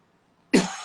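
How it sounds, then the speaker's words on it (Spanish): A man gives a single abrupt, close, loud cough after near silence. The cough rasps on briefly as it fades. "No, espero que no sea COVID, pero tengo un poco de tos."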